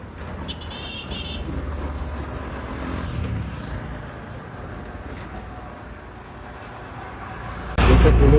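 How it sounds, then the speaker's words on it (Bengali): A village trawler's engine chugs as the boat passes beneath a raised sluice gate, a continuous close rumble with a brief higher whine early on, growing suddenly louder in the last second. "দেখেন কিভাবে সুইচ গেটের নিচে দিয়ে ট্রলার ঢুকতেছে।"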